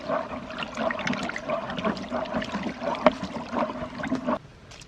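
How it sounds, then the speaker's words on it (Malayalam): Water pours steadily into a fertilizer mixture for jackfruit plants for several seconds, a splashy trickling stream that stops abruptly near the end. "ഇതിനകത്ത് കുറച്ചും കൂടി വെള്ളം ചേർത്ത് കൊടുക്കണം"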